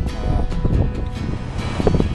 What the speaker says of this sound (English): Man, the wind here is terrible.